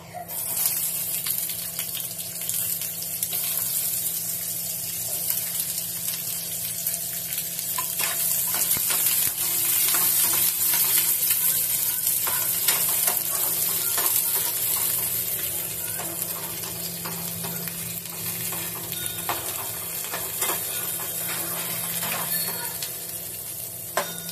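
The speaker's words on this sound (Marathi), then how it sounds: "कांदा चांगला थोडासा लाल होईपर्यंत आपण आता परतून घेऊया मंडळी" Chopped onion frying in a pan over lowered gas heat while cooking hotel-style matar paneer, a steady broad sizzle running continuously at moderate level.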